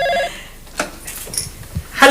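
A telephone in a comedy sketch rings in short bursts, a clear electronic ring at the start and again near the end, with quieter clatter and brief sounds in between.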